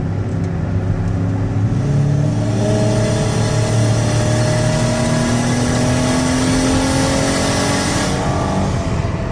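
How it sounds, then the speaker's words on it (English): A 2019 Dodge Caravan SXT minivan engine accelerates hard on the highway, steady droning rise in pitch with a shift, heard from inside the cabin with constant road noise and no talking. "I want you to hear the engine run hard."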